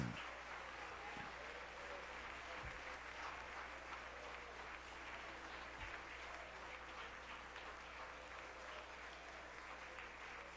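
A church congregation claps and cheers during a French-language service, a continuous wash of applause heard from some distance over a low steady hum, with a few faint thumps.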